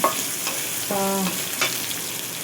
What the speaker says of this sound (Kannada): 4 ಚಮಚದಷ್ಟು ಕೊತ್ತಂಬರಿ ಹಾಕ್ಕೊಂಡಿದ್ದೇನೆ. ಲೋ ಫ್ಲೇಮಲ್ಲಿ ಹುರಿಬೇಕು.